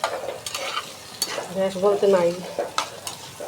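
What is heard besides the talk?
potatoes frying in a pan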